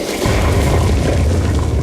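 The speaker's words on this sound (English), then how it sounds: "Pretty sweet explosion of those destructible rocks." Destructible rocks blow up in a StarCraft match, a loud, deep booming explosion that rumbles steadily for nearly two seconds with no talk over it.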